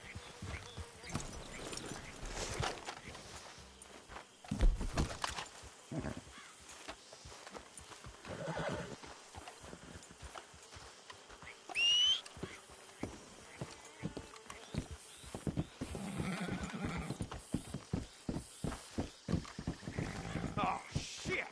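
Horses in Red Dead Redemption 2 walk with a steady clip-clop of hooves and give an occasional whinny, close by, mixed with faint insect buzzing and ambient game sound, with people talking over parts of it.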